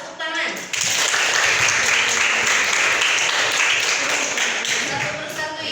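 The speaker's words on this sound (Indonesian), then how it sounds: "Tepuk tangan." Steady applause from a class of seventh-grade students fills the room, dense and loud for several seconds after a brief quieter start, then slowly easing off.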